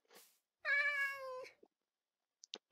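A cat in the video game Minecraft gives one clear, drawn-out, tonal meow, close and alone, followed by a few faint clicks.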